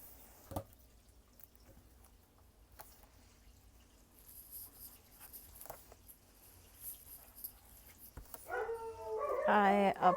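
Several dogs bark and yip indoors, loud and close near the end, after a quieter stretch with only occasional faint sounds and movement.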